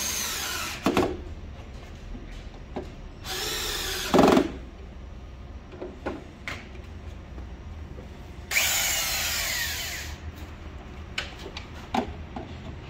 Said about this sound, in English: We are making holes.